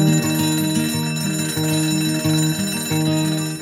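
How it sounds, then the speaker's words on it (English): An alarm bell rings loudly and close up, a rapid metallic clatter that repeats in bursts with only tiny gaps. "coming awake to an alarm bell with a certain start is not the best way to do your life"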